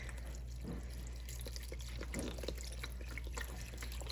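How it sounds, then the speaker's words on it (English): Vegetable stock poured onto lentils in a pot, a steady liquid splashing and trickling with faint drips and clinks, fairly close and continuous with no talking. "now I'm adding in the vegetable stock. I'm adding almost the whole thing."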